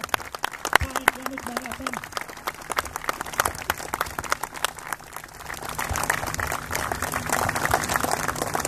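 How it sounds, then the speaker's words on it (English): Crowd applause at a softball opening ceremony in Fishhawk, scattered rapid claps that thicken and grow louder toward the end, with a voice talking over the start. "starting with a big round of applause from the Fishhawk crowd here"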